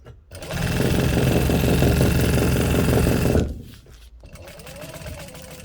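Sewing machine stitching fabric for a stuff sack, a fast steady mechanical whir and needle chatter running loud for about three seconds, then stopping to leave quieter handling noises.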